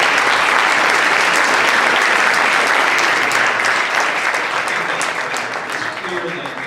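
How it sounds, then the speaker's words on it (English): An audience at a political debate claps in a dense, sustained burst of applause that gradually thins toward the end. "I think a round of applause is very good."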